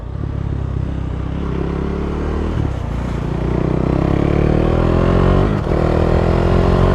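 A motorcycle accelerates up close, its engine note rising steadily through the gears with a brief dip at a shift, loud and continuous over rushing wind.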